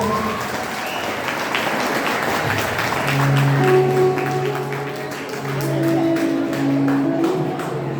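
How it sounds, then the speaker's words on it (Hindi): Audience applause at a farewell event, a dense, steady burst of many hands clapping that rises and falls over several seconds, with murmurs and a voice underneath. "एक जोरदार ताली तो बजता है"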